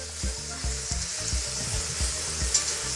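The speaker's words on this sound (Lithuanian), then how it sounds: "Nu ir kepsim, kol gražiai apskrus. Pamaišom kazaną." Chicken and potatoes fry in a kazan on a Kamado grill, with a steady broadband sizzle and repeated low scraping knocks as the pieces are stirred, close and continuous with no talk.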